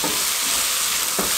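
Keema and potatoes fry in a pan over a medium flame with a constant, loud sizzle, broken by a soft scrape of stirring near the end.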